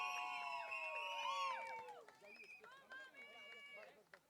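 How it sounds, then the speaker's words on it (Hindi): Guests at a sangeet celebration hoot and cheer loudly, with long rising whistles and high-pitched whoops layered over crowd noise and shouting, continuous throughout. "चलिए, तो पहले तो दोनों तीनों चाचीज और मम्मी के लिए जोरदार हूटिंग हो जाए।"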